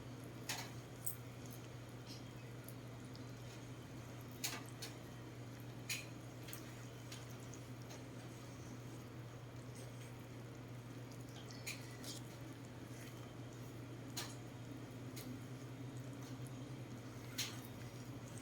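Thick Pinoy hotcake batter made with water and milk is stirred in a bowl, giving soft intermittent knocks and wet squelches over a steady low hum.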